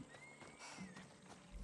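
A horse whinnies in the video game Assassin's Creed Odyssey, a faint drawn-out neigh mixed with soft hoof clip-clops, quiet and somewhat distant.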